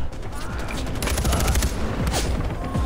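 Rapid gunfire bursts in the video game Far Cry 4, a dense crackling volley of shots, loud and continuous over a few seconds.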